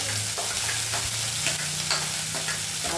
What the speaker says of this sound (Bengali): আর এখানে তেলে দিয়ে দিয়েছে কালো জিরে ফোড়ন, আর তারপরে মা দিচ্ছে পেঁয়াজ কুচি